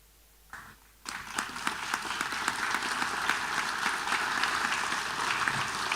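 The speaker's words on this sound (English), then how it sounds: "this wonderful group of people who have been a part of your journey today deserve that round of applause" A graduation crowd gives sustained applause for the faculty and coaches of the HIS Class of 2025, loud, dense clapping that starts suddenly after a second of quiet and keeps swelling.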